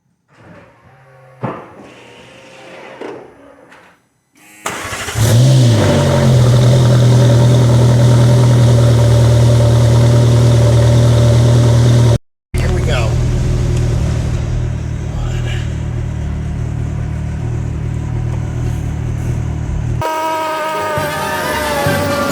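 A salvaged McLaren's engine starts and runs at a steady, loud, close idle, with a brief cutout partway through and some shop noise around it.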